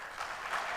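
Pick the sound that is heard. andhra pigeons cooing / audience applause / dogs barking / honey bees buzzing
audience applause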